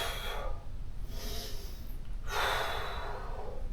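Controlled breathing during a karate cool down, close breaths drawn in and pushed out with two strong airy exhalations, quiet and unaccompanied by talk.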